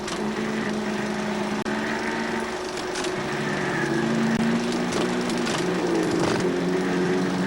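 Engines of 1955 sports cars racing at Iowa City on May 30, with Loyal Katsky of Omaha in the lead, drone steadily at a distance, their pitch rising and falling as cars circle the track.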